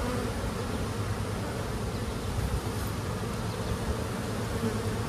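Honey bees drone steadily around an open hive full of honey during a swarm-prevention inspection, a dense, continuous buzz that stays fairly even throughout with no voices.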